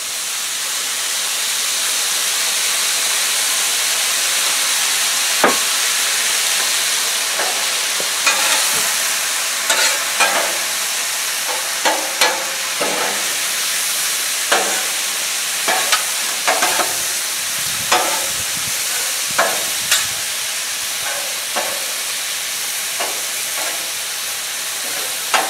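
Asian-style pork noodles with soy sauce stir-fry on a hot griddle, a steady loud sizzle with frequent scraping and clacking of utensils as the food is tossed, no talking.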